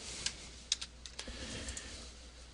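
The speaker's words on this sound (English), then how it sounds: "And I could just type here" Quick, light keystrokes tap on a computer keyboard while typing text into a PowerPoint 2010 slide, a faint, irregular run of soft clicks against quiet background hiss.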